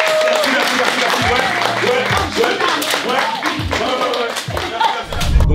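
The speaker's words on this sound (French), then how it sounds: "On applaudit s'il vous plaît" Audience applause for the winning duo of a couples' dress-up contest, steady clapping throughout with talk and low thuds mixed in beneath.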